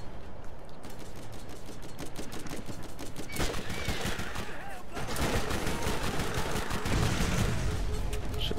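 In the video game Borderlands, a submachine gun fires in rapid, continuous bursts at turrets. The gunfire is loud and near, with game effects behind it.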